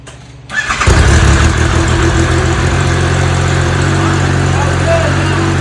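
A Polaris RZR off-road vehicle engine, fitted with a new race clutch, cranks and catches, then settles into a steady, rumbling idle that continues close by.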